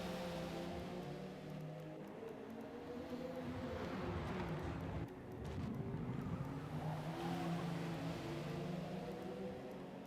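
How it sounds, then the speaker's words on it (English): A GT race car engine drones steadily in a sim racing game at Daytona, its revs sliding up and down through gear changes, with a brief dip midway, heard at moderate level without talk. "Coming up on another GT car."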